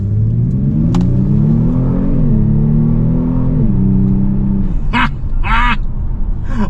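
A 2019 Kia Stinger GT2 sport sedan with rear-biased all-wheel drive pulls away hard. The engine note climbs steadily, eases off and climbs again through a shift, loud and close throughout, and brief clicks and knocks land near the end.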